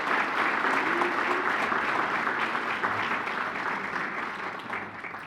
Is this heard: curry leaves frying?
no